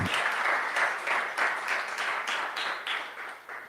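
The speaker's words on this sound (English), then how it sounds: "please join me in giving them a massive round of applause for their help in organising this" A crowd at a live games talk event in Glasgow gives sustained applause, dense clapping that swells and dips in loose waves throughout.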